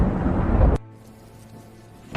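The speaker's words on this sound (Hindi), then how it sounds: "आसमान में गरजती बिजली" Thunder in a storm rolls as a loud, deep, broad rumble that cuts off abruptly after under a second, leaving a faint low hum and near quiet.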